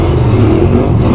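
Engine-swapped 2020 Can-Am Outlander XMR ATV with an 850 engine revving hard, a loud close sustained drone held at high revs for a brief moment.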